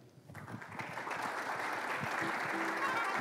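Audience applause at a 2017 engineering conference welcomes a speaker to the stage, starting quickly and swelling into a steady, dense clapping wash that holds for several seconds, fairly close and loud, with no talking.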